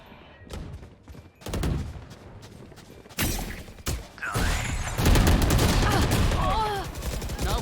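Gunfire rattles in a Valorant team deathmatch: single shots at first, then dense, loud automatic bursts with game effect sounds, while a player talks in the background.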